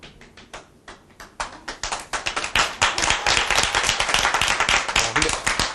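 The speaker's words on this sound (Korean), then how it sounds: "근데 뭔가 박수가 석연찮아요." Audience clapping at a lecture in Daegu begins as a few scattered claps, then builds into steady, dense applause from many hands.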